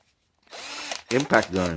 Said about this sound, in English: this is an impact gun